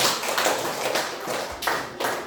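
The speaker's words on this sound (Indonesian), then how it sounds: "tepuk tangan dulu untuk Suci." Students in a classroom clap in a few loud, close bursts with short pauses between them, an uneven rhythm of group clapping.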